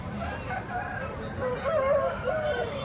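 At the Kundarapalli jati breed chicken market, a rooster crows amid clucking fowl, with a low murmur of background voices in the crowded setting.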